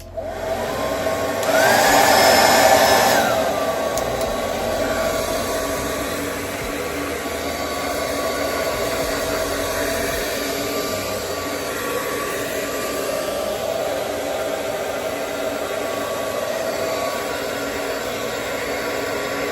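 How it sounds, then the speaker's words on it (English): A handheld hair dryer blows continuously and close by while hair is dried, a steady airy whine that swells louder for a couple of seconds near the start, then settles to an even hum for the rest. "dry my hair"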